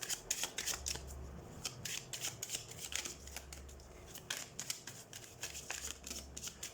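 Tarot cards are shuffled in quick, crisp riffles and flutters, close and soft, in repeated bursts with short pauses between them.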